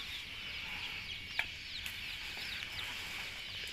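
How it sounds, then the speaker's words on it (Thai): Baby chicks cluck and cheep softly while being fed, a faint scatter of small high chirps over a quiet background with one brief sharper peep. "วันนี้นะคะบิมก็จะมาให้อาหารลูกไก่นะคะ"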